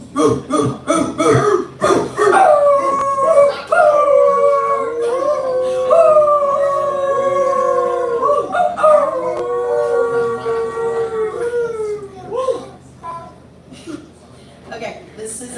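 A person on an open mic stage imitates a dog howling, a long wavering vocal howl rising and falling over several seconds, with brief laughter and crowd noise around it.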